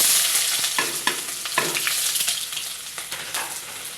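Onion fries in oil in the pan right after an egg has been fried. A bright, steady sizzle is broken by scraping stirs and spatula taps, and it fades slightly toward the end.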